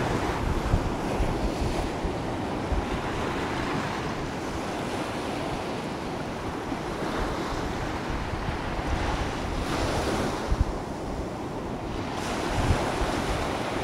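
Ocean waves wash against the seaside while wind buffets the microphone, a continuous roaring rush with swelling surges and no talking.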